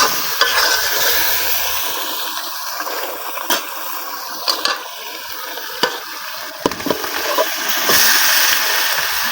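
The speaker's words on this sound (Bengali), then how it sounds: "এখন এটার ভিতরে কাঁঠাল দিয়ে আবার কিছুক্ষণ কষাই নিব" Beef and pre-boiled jackfruit frying together in a pot, a loud continuous hiss of sizzling with occasional sharp clinks and scrapes of a stirring spoon, close up.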